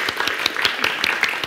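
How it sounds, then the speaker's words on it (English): A group of people clapping their hands together in a steady, fairly quick rhythm, the claps overlapping into a loose, lively patter at moderate volume. "Simon says, clap. Keep clapping."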